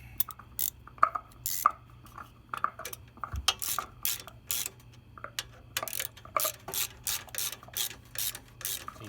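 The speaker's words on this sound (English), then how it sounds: "So you hear that clunk, clunk, clunk, clonking? That's my dog chewing on a bone." A dog chews on a big thigh bone nearby, making a long run of irregular clunks and knocks, some in quick clusters and others spaced out, over a faint low hum with no talk.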